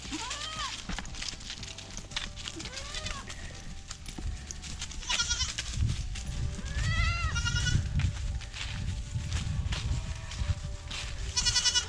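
Several goats bleat in turn, some near and some farther off, with a steady low rumble of farmyard noise underneath.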